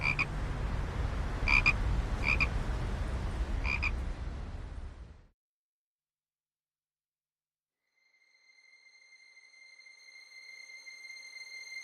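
Frogs croak, with a few sharp repeated calls over a dense low chorus. The sound cuts to silence midway, then a thin ringing tone gradually fades in.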